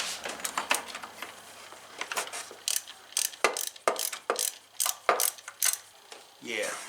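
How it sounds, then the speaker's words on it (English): A 1/4 inch drive ratchet with an extension works loose the throttle body bolts during a supercharger replacement on a Pontiac Grand Prix GTP, giving close, loud bursts of rapid clicking in uneven runs with short pauses, no talking. "Yeah, you can get a 1/4 inch drive ratchet in there."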